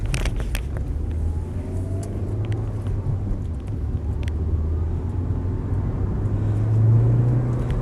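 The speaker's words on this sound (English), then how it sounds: "Really good kick when the turbo comes in on these" A Volvo V40 2.0T turbo estate car drives and accelerates, a steady low engine drone with road rumble from inside the cabin, the pitch climbing and swelling toward the end, with a few small clicks.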